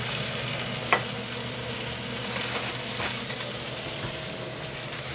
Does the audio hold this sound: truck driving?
no